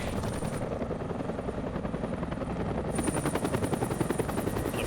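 A military Osprey tiltrotor aircraft flies close by, its loud steady rotor beat thudding continuously under a high whine, with no voices.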